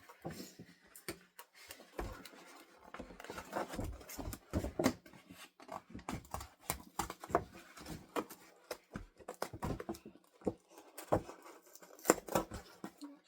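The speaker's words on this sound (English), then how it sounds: "Especially when I'm using really small like scissors like this." Small scissors snip thread or fabric for sewing repeatedly in quick, irregular bursts of sharp clicks up close, with faint rustling between cuts and no talking.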